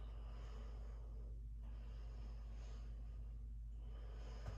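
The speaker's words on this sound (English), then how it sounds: "Wherever you've gone, take 3 deep breaths" Slow deep breathing from a person holding a yoga warrior pose, two long drawn breaths with soft nasal airflow, close but quiet over a steady low hum, no talking.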